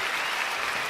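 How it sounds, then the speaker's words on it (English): Livestream audience giving a round of applause right after a new song is played, dense steady clapping filling the whole moment without a break. "How about a round of applause?"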